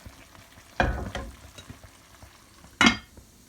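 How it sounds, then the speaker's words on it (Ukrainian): Cabbage being added to pork ribs stewing in a pan, with two loud rustling, sizzling bursts about two seconds apart over a faint steady simmer, no talk. "Додаємо капусточку і тушкуємо її далі."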